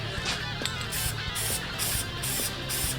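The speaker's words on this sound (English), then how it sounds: "spray down the foam element a little bit" Several short bursts of aerosol filter oil spray hiss in a steady rhythm onto a foam air filter element, close by, each lasting about half a second with brief pauses between.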